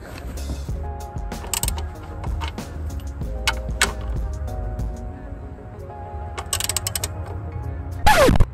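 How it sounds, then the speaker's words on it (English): Ratchet ratcheting while a bolt is tightened on a Golf mk1, giving repeated clicking bursts over a low steady hum, fairly close, with a louder clatter near the end. "so I will torque it quite a bit, and we are almost ready"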